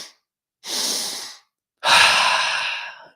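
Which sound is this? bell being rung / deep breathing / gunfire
deep breathing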